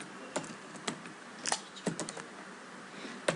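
Router configuration commands being typed on a computer keyboard: sparse, close individual key clicks at an irregular pace over a quiet background, with no talking.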